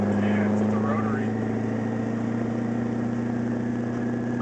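Twin-turbo LS1-swapped Mazda FD RX-7 with a steady droning engine note and a strong low hum, heard from inside the car under people talking.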